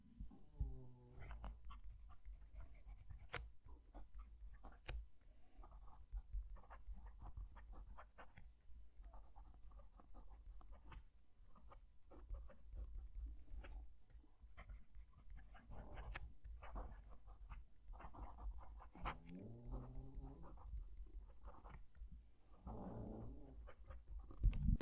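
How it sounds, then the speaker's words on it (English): Fountain pen nib scratching across paper, recorded close with the microphone down at the page, a steady run of light strokes and taps over a low background hum, no talking. "Let's move the mic down to the page so you can hear the pen write."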